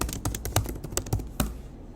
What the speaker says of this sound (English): I'm just going to type in my location.